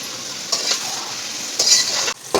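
Tomatoes sauté in a pan with a close, steady hissing sizzle, punctuated by several bursts of spoon stirring and scraping.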